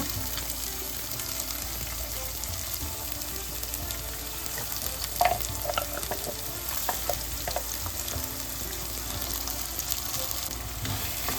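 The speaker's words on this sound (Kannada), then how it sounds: "ಎಲ್ಲ ಹಸಿದೆ ಹಾಕಿ ರುಬ್ಬಿರೋದ್ರಿಂದ ಎಣ್ಣೆಯಲ್ಲಿ ಅಕ್ಕಿ ವಾಸನೆ ಹೋಗೋವರೆಗೂ ಇದು ಫ್ರೈ ಮಾಡ್ಕೊಳ್ಳೋಣ." Ground masala paste frying in hot oil for avarekalu pulao, a steady close sizzle with occasional stirring scrapes and small pops, no talking.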